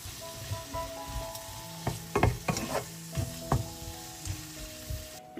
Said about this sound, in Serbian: promešat ću i nastavljam da pržim još 5 minuta